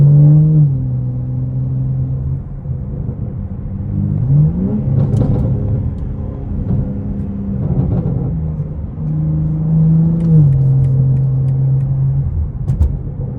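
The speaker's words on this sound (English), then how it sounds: "Mainly the noise is coming from the back, from the exhaust." A BMW G80 M3 running through a full modular single-pipe exhaust, heard from inside the car as a loud, deep drone that rises and falls with throttle, with gear changes shifting the engine note.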